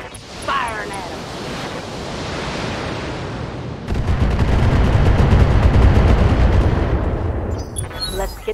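Mech weapons in Battletech fire on an enemy unit, a sustained roaring barrage of blasts and rumbling impacts that swells loud midway and holds, with a brief voice early on.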